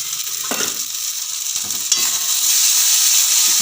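Broccoli curry with green chili paste and cashew paste is sautéed in a pan: a steady, close sizzle that builds in intensity, broken by a few spoon scrapes and stirring clatters.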